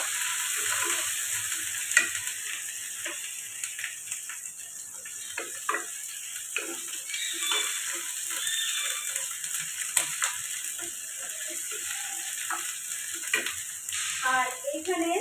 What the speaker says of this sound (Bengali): আর দিলাম পেঁয়াজ। এটা কিন্তু খুব বেশি ফ্রাই করবো না, জাস্ট একটু নেড়ে নেবো।